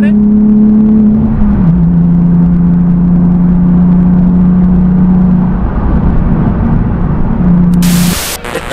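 Nissan 370Z accelerating, a sustained low engine hum that drops in pitch early, holds steady through most of the stretch, then breaks off near the end with a brief burst of noise.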